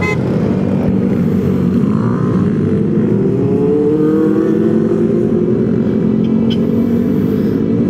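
Motorcycles on a group breakfast ride rumble continuously close by, engines revving and rising in pitch as bikes pass, forming a dense, loud drone throughout.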